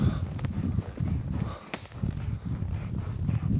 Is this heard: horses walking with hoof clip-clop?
yes